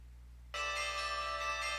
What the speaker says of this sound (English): In that moment, far in the distance, I hear the church's bells, strong declaration of winter, resonate throughout the city.